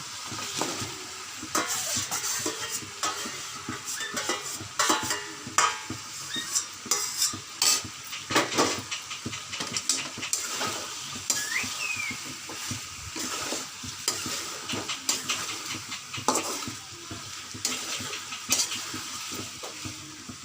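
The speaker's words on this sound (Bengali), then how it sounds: "এর মধ্যে আমি এই গোশ ভাজাটা দিয়ে দেবো।" Fried chicken pieces added to softened onions for a chicken biryani, a loud sizzle in the pan with busy, repeated stirring scrapes and utensil clinks, no talking.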